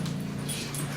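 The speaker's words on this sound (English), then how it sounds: "What a dog." A dog whimpers at a closed door, thin high whines over a steady low hum, close and fairly loud for a brief moment.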